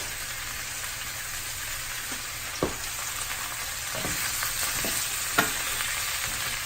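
Shrimp and broccoli stir-frying in a hot wok, a constant loud sizzle with a few sharp clacks of a utensil against the pan, no voices.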